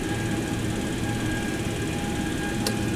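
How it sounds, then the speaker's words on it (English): A Boeing 727 engine 1 in the X-Plane 11 flight simulator spools up with a steady, loud turbine whine and rumble, and a brief click sounds near the end. "now we can start engine 1"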